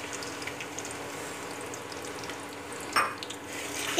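Two sliced medium onions fry in about three-quarters of a cup of hot oil inside a pressure cooker, a steady sizzle broken by a louder scrape and clatter of stirring near the end.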